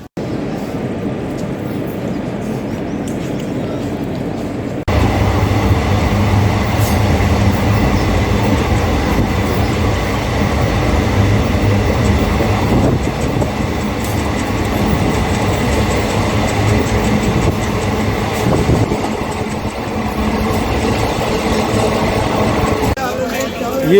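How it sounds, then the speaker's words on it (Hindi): Chennai Central–Mumbai CSMT superfast express pulling into Rajampeta station, a loud continuous rumble of rolling coaches and wheels on rail that swells abruptly and holds steady, with faint voices mixed in. "यहाँ Chennai central Mumbai Chhatrapati Shivaji Maharaj superfast express पहुँची है"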